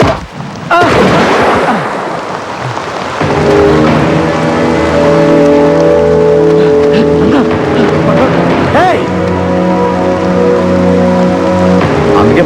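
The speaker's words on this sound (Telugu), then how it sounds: "వర్షం బాగా కురుస్తున్నాయి." Heavy rain falls in a dramatic scene, a loud, steady wash of noise under a sustained tonal drone, with a sudden burst near the start and voices speaking over it.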